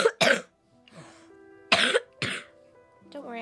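A sick player at a board game session coughs in sharp, harsh bursts, two pairs of close coughs separated by short pauses, with a bit of murmured voice between them.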